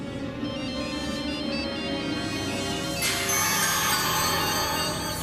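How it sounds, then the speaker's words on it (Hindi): A mobile phone ringtone plays continuously in a Hindi TV serial scene, a bright electronic melody that grows louder and fuller partway through, with no one speaking. "उनकी बेल बज रही है पर फोन दिखाई नहीं दे रहा है"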